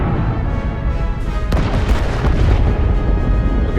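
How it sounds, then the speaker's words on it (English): A starship exploding in the video game Star Trek Resurgence, a loud, rumbling, sustained roar of blasts with a sharper burst partway through, heavy low end throughout. "This thing is blowing up."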